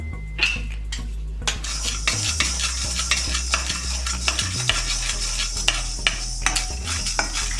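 Black peppercorns dry-roast in a pan while a spoon scrapes and stirs them, making steady rattling and clinking strokes over a light sizzle, close and loud, with no talking.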